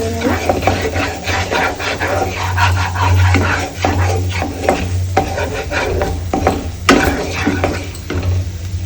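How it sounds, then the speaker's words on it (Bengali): A spatula stirs mango and fish curry in a pan with repeated scraping clicks over a low sizzle, and a dog barks a few times nearby. "তারপর সামান্য নাড়াচাড়া করে নেব।"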